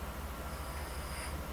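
A train travelling in a film scene, a steady close rumble of railway carriage wheels with faint squeal and constant low drone, no talk.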